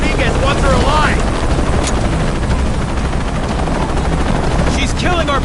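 Helicopter rotor drone with bursts of gunfire in the combat video game Shadow of the Tomb Raider, loud and constant, while shouted voices and other talk are heard over the battle.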